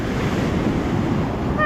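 Ocean surf rolls onto the shore at Cape San Blas beach in Florida, a steady, loud wash of breaking waves mixed with strong wind buffeting the microphone.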